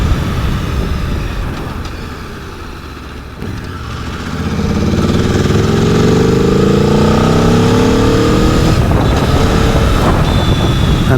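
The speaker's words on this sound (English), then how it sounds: "the sound of this OEM exhaust is just fantastic." An Italian sports touring motorcycle with its stock OEM exhaust accelerates on the road, the engine note rising through the revs and pulling strongly over heavy wind buffeting, loud and close throughout.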